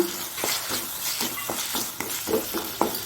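Chopped chili peppers and salt sizzle in a hot pan for a Mangalore-style prawn dish, a steady frying hiss broken by regular stirring scrapes.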